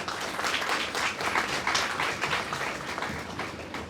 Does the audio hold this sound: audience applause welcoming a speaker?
yes